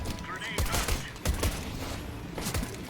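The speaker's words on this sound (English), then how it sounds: "I think he's shooting our teammate." Gunfire in Counter-Strike, a few sharp shots spaced across the clip at moderate loudness over a busy game background, without clear speech.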